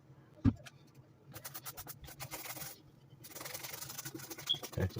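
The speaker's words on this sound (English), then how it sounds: "just rubbing the shield real good" A hat's visor is scrubbed by hand in bursts of soft, scratchy rubbing strokes. The strokes pause briefly, then resume as a denser stretch near the end.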